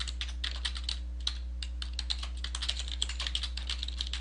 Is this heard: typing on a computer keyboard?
yes